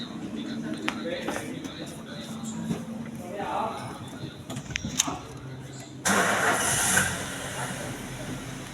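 A car engine in a workshop cranks and fires, its running noise jumping up loud and steady partway through, following talk and shop clatter.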